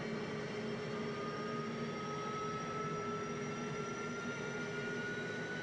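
Steady jet engine roar of an F-15E in DCS World during an AMAD fire test, a continuous whine with tonal lines rising slowly over broadband rumble, constant and loud throughout with no talk.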